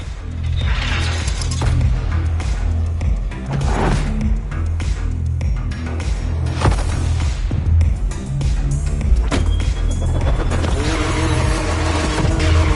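Race car engines in The Crew Motorfest drone loudly and steadily, revving and shifting under layered in-game effects and occasional sharp transients, with no pause throughout.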